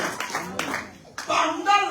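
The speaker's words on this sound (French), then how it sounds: "Donnez-moi une offrande d'acclamation." Congregation clapping in a church service, scattered bursts of hand claps mixed with voices calling out, uneven and moderately loud.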